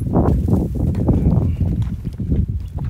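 Horse hooves clip-clopping through a ride at a canter, a steady run of close, low thuds with no talk over them.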